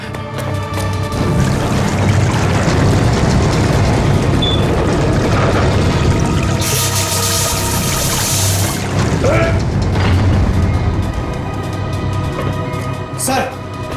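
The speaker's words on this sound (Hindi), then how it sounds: "सबमरीन में दरार आ गई सर। पानी तेजी से नीचे आ रहा है।" A submarine hull cracking and flooding as a TV drama sound effect: a loud, continuous deep rumble and rushing water that surges in mid-clip, with voices mixed into the din.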